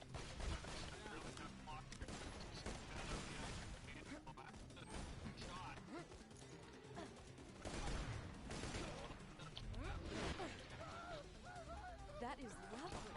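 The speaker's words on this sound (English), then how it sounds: "What is shooting at me?" Gunfire in Borderlands 2, with dense rapid shots and crashing impacts throughout, loud and chaotic, while a person talks over the combat.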